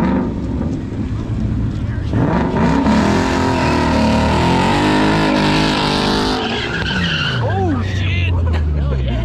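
A car doing a burnout at a Mustang Week event, tires skidding and squealing continuously over a revving engine, loud and close, with a crowd talking in the background.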